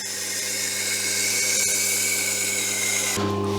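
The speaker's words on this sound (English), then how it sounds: "go onto the honing wheel and just deburr the blade" A honing wheel runs steadily while a blade is deburred against it, a continuous loud whirring grind with a constant motor tone that stops short near the end, leaving a lower hum.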